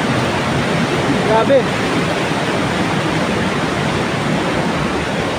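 Strong floodwater roars over Old Wawa Dam in Montalban, Rizal, a loud, unbroken rushing wash filling the whole stretch, with a man's brief exclamation near the middle.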